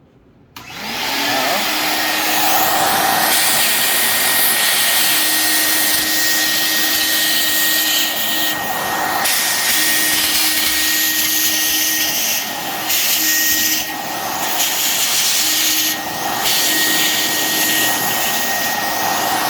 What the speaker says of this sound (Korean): 이거는 분진 전용 청소기가 있어요. 토너 전용.